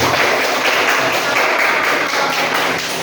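A classroom of students bursts into steady, dense applause for a classmate, loud and continuous throughout, fading slightly at the end.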